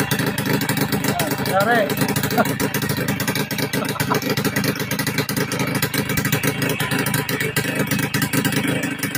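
A motorcycle with an RS100 frame and converted DT100 engine block runs close by, its exhaust giving a steady, loud rattling two-stroke drone while someone talks over it.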